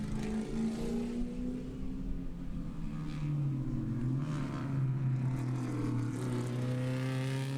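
A Ford Mustang GT3 race car roars past at Sebring, close to the trackside edge, its loud engine drone holding steady with pitch shifts as it sweeps by, blending into continuous race-car noise throughout.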